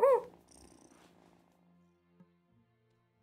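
Cat purring in the Wylde Flowers video game: a soft, low continuous rumble that fades over a few seconds after a brief meow-like chirp at the start, faint and alone.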